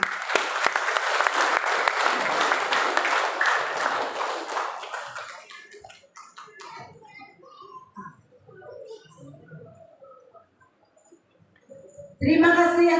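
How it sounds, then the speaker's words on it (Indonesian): A church congregation applauds loudly and densely for several seconds, then the clapping thins into scattered claps and room murmur before a sudden loud burst of sound at the end. "Beri tepukan."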